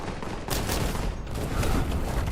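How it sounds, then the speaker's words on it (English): A grenade is thrown in the shooter game Warhammer 40,000: Boltgun, followed by loud rapid bursts of gunfire and blasts rolling on without pause, with no talk over them. "How do we throw a grenade?"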